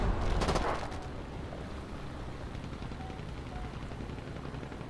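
Rapid bursts of mini machine gun fire in the War Thunder aircraft battle game, a dense rattling volley at the start that gives way to steady engine drone for the rest of the clip.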